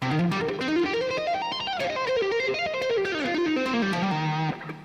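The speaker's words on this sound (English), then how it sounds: "Or you can walk up 3 note per string like pentatonic." A distorted electric guitar plays a quick pentatonic run at three notes per string. The notes climb and descend in rapid, even steps and finish on a held low note, alone and up close.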